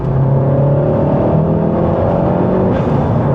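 Mk7 VW Golf GTI Clubsport S engine, 300 horsepower, revving loud and close with a steady throaty drone and rising harmonic tones, sustained throughout without any voices.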